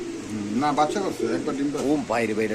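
Danish racer pigeons cooing, soft throaty coos mixed in with someone speaking close by.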